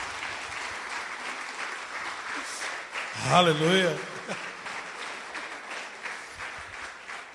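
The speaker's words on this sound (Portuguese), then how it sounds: "Aplauda Jesus, aplauda Jesus, aplauda Jesus." A church congregation applauds Jesus in steady, crowded clapping throughout, while a voice calls out over it and briefly rises in a sung or shouted tone near the middle.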